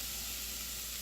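Onions sizzle steadily in a pan over lowered heat as they cook down and caramelize for pizza and pasta sauce, a continuous close frying hiss with no pauses.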